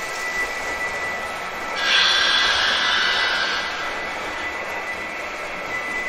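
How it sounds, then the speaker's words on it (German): A Märklin H0 model freight train pulls away on a layout, a rising whir and hum that swells after a couple of seconds, then settles into a steady running drone alone. "Jetzt fährt mal wieder ein Güterzug los."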